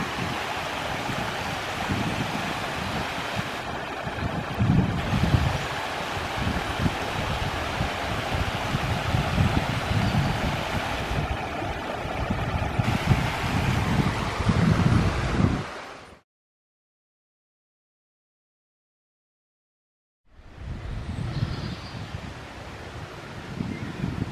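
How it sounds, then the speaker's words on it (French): A small stream's steady rushing water flows continuously, loud and close, with a wind-like roar, on a hike near the Roches Tuilière and Sanadoire. It cuts to silence for a few seconds and then resumes. "Alors, le petit ruisseau"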